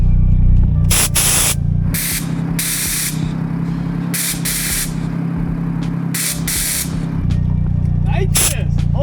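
Nitrous oxide sprays in several sharp hissing bursts on a kei car powered by a motorcycle engine, close and loud over a steady idling engine, with people talking.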